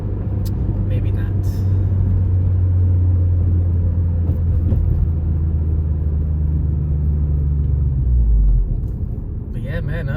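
A 9th generation Honda Civic fitted with a test pipe pulls under acceleration, a loud steady low engine drone that holds for several seconds and then drops away, heard from close by with little else around it.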